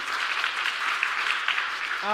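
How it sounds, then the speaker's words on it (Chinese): A church congregation at a Sunday worship service claps to welcome a teacher, producing a steady, dense patter of many hands that holds for about two seconds with no voices on top. "我们来鼓励，拍手欢迎哈"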